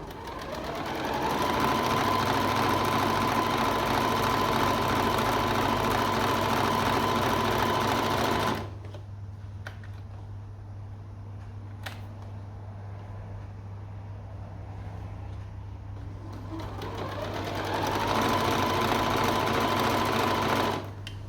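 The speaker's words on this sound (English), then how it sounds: "now I'm just going to sew the inside leg" Sewing machine stitching the inside leg seam of little girls' pyjamas, a loud steady whirring drone that runs continuously, eases to a softer, slower hum midway, then speeds back up, with no talking.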